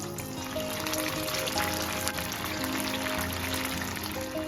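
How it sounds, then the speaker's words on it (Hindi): Potato-stuffed bread rolls go one by one into hot oil in a pan over a medium flame, producing a steady, dense sizzle that stays even throughout. "ब्रेड रोल्स फ्राई करने के लिए मैंने एक पैन में तेल गरम किया है और अब मैं फ्लेम को मीडियम कर देती हूँ और एक एक करके इसमें ब्रेड रोल्स डाल देंगे।"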